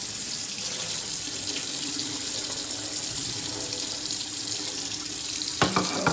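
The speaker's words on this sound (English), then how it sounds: "rinse the mackerel off. Rinse it off like so." Tinned mackerel is rinsed under a kitchen tap, a steady loud rush of running water hitting the fish and sink throughout, with a few splashy clatters near the end.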